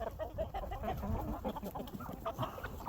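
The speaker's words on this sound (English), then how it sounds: "I see my blue laced red Wyandotte hen." Blue laced red Wyandotte hens clucking in a winter farmyard, a steady stream of overlapping soft clucks and murmurs from several birds, moderately close and fairly quiet, with no talking.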